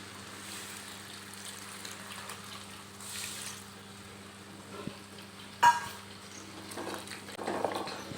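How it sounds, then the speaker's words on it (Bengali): Black pepper is stirred in a cooking pan, a soft, low sizzle and faint scraping underneath, with a sharper clank midway and a rougher swirl of stirring near the end, no talking. "এবারে গোলমরিচটাকে একটু নাড়াচাড়া দিয়েই আমি এর ভিতরে রান্নার জন্যে জল দিয়ে দেবো"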